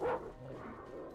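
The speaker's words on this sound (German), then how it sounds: "Das ist ein Hund." A dog in the video game Metro Exodus gives a single short bark at the start, fairly faint, followed by a low, quiet background.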